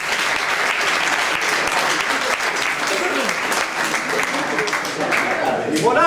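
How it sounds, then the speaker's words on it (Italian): Steady audience applause at an awards ceremony, a dense wash of clapping held throughout at moderate level, with voices faintly mixed in. "un bel applauso assessore."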